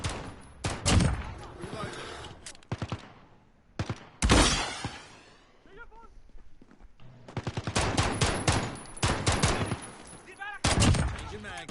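Rapid automatic gunfire in Call of Duty: Modern Warfare, loud close bursts and sharp individual shots in clusters, with ringing tails and pauses between exchanges.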